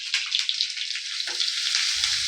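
A pinch of asafoetida hissing in hot oil for a samosa filling, a steady close sizzle with crackling spatters throughout and a faint clatter of the pan.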